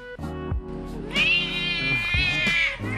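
A British Shorthair at a rescue cat café lets out a couple of close, drawn-out meows, the second long and wavering, with no talking over it.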